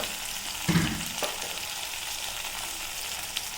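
Onions with curry leaves, coriander and salt sauté in a pan with a steady close sizzle, interrupted by a couple of sharp utensil knocks early on and a light tap near the end.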